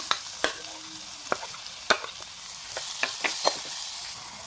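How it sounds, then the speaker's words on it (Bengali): Onion and green chilies fry in oil for an egg curry, a soft steady sizzle under sharp, irregular clicks and scrapes of a spatula on the pan, close by with nobody talking. "এবার এবার এখানে দিয়ে দিব পেঁয়াজ আর কাঁচা লঙ্কা"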